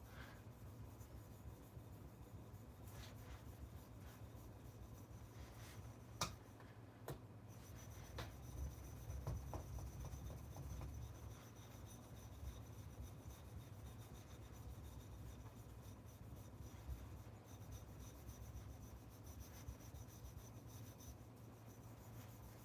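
Knife blade drawn across a sharpening stone to refine scratches, producing quiet rasping strokes in irregular sweeps, fairly close but faint, with a low steady hum underneath.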